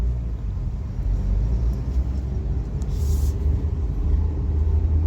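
A Suzuki Baleno driving after a steering repair, giving a steady low road and engine rumble from inside the car, moderately loud and even throughout, with no talking.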